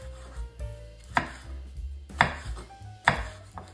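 Knife slicing a bell pepper into thin strips on a cutting board, three sharp chops ringing out alone at an unhurried, evenly spaced pace over a low background hum.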